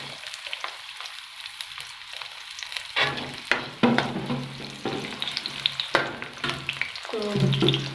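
Chopped onions hit hot oil in a pan for an aloo matar curry, bursting into a loud, steady sizzle after a quiet start, with scraping and stirring clatter on top.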